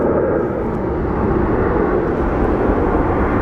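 Steady, loud roar of an airliner engine at Phoenix Sky Harbor International Airport, a broad continuous rumble holding level throughout with no talk.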